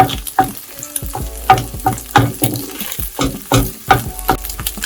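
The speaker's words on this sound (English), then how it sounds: "And the scrambled eggs are almost ready. Try to break your eggs into small pieces." Eggs scramble in a frying pan for chicken egg fried rice, with loud, close sizzling and a quick, uneven run of spatula scrapes and taps breaking them into small pieces, no voices.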